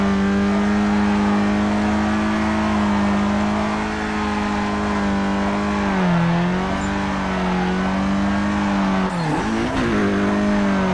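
A Lotus engine in Need for Speed Carbon, droning loudly and steadily with a strong buzzing tone, pitch dipping and recovering as the car lifts off and accelerates, ending in a quick revving swoop.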